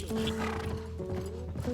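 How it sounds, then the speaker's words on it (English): Horses in the video game The Last of Us, neighing and snorting close by over a background of game ambience. "Yeah, we got Assassin's Creed horses."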